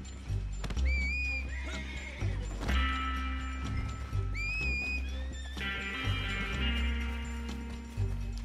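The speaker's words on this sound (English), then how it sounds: "Come here, horsey." Horses in Red Dead Redemption 2 whinnying repeatedly at close range over heavy clip-clop hoofbeats, with several shrill neighs spread across the stretch and no talking.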